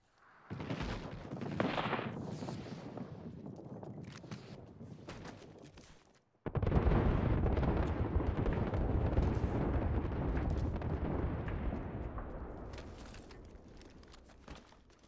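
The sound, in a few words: artillery strike explosions in Apex Legends video game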